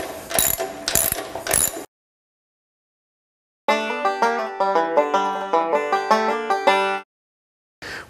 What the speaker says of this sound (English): I'll run this nut down to make sure that it doesn't back off. And we'll secure the motor.